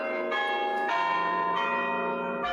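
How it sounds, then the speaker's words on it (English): Church bells ring in overlapping, sustained peals, new strikes arriving about every half second to second, loud and resonant with no talking. "The church bells rang out Sunday morning in 5 Points."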